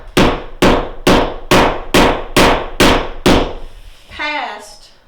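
Eight loud, evenly spaced blows beat a wall anchor into sheetrock during bathroom wall prep, struck with an improvised tool instead of a hammer, followed by a brief scraping rattle at the end.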